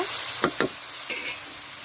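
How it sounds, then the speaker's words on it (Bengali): Spice paste loosened with a splash of water is stirred in a pan, a soft background sizzle broken by two quick scraping strokes and then another brief one, close and fairly quiet. "জল দিয়ে আমি আবার একটু ভালো করে নেড়ে নেব"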